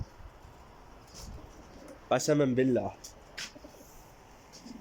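Pigeons cooing close by in a short burst of throaty, rolling coos, under a voice speaking.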